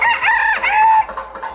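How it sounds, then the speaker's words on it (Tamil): A fancy rooster crows once, close and loud, its strained call rising and then falling off at the end, at a resort in Kumarakom, Kerala. "இந்த ஃபேன்சி சேவல்லாம் பாக்குறதுக்கு வித்தியாசமா இருந்துச்சு."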